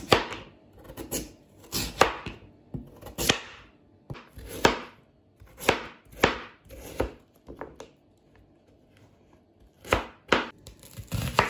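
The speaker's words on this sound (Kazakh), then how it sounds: "Морковымызды тураймыз." Carrots being sliced with a knife on a cutting board for a kuyrdak stir-fry, a series of crisp, close chops coming in uneven bursts with short pauses between, no voices.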